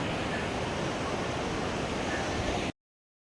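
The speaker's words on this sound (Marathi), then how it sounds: "ही नदी अशी वाहत जाते" Steady broadband rush of river water flowing at a resort, loud and continuous throughout with no breaks, like strong surf or wind noise.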